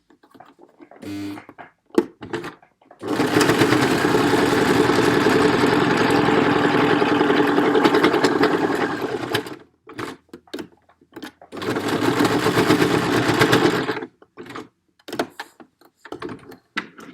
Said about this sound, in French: on va insister sur la couture du lien